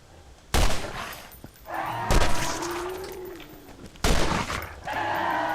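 Gunfire while shooting skags in Borderlands: three sharp, loud shots spaced about one and a half seconds apart, each followed by ringing tails and creature cries, with no talk over them.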